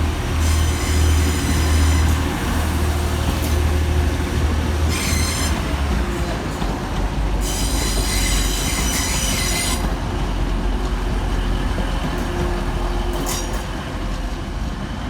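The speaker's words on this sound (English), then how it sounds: "Departing rather unusually off platform 3 is 185 110 and 185 139, running 5 minutes late with the 1202 Transpennine Express service" Coupled Class 185 TransPennine Express diesel units pulling out of a platform at Manchester Oxford Road station, a loud continuous diesel drone with repeated high wheel squeals and rail clatter close by, no talk.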